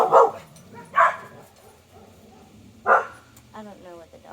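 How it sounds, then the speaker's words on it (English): Dogs barking at home, four sharp separate barks spaced over several seconds, close and loud, with a short whimpering yip near the end. "don't know what the dogs bark at."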